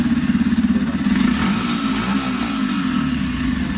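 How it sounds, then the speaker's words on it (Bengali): Yamaha motorcycle engine running with a loud, close, low throbbing pulse that flutters rapidly at first and then settles into a steady drone. "দেখো বাইকটি সাউন্ড কন্ডিশন,"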